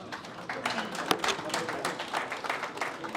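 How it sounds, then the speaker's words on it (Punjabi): A press conference audience claps for the star cast of a Punjabi web series. The applause is brisk and moderately loud, with dense overlapping claps that continue steadily throughout. "ਜ਼ੋਰਦਾਰ ਤਾਲੀਆਂ ਹੋ ਜਾਣ ਪਲੀਜ਼ ਉਹਨਾਂ ਵਾਸਤੇ"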